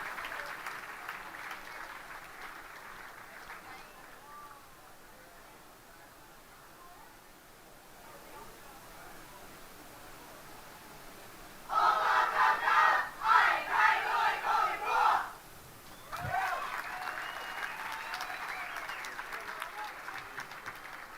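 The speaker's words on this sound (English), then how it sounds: "Big round of applause for Team Hawaii." Crowd at a junior surfing world championship finals in El Salvador applauds and cheers for Team Hawaii, with a sustained bright roar of clapping and shouts that swells loudly in the middle, dips briefly, then continues.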